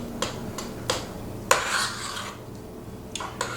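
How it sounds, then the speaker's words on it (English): A spoon scrapes and knocks against a bowl while sourdough starter and flour are stirred into a batter, giving several sharp clinks among soft rubbing strokes, close and alone. "Using a spoon, nothing fancy, just to mix it together."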